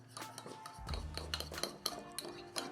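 A spoon scrapes and clinks against a bowl while za'atar spice is mixed with a tablespoon or two of oil, giving a series of close, light metallic taps and scrapes.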